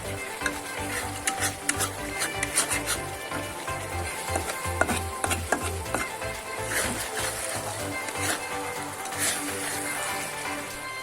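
Mustard fish curry simmers as it is slowly stirred, with a steady bubbling sizzle and repeated soft scrapes of a ladle through the thick gravy, close and continuous.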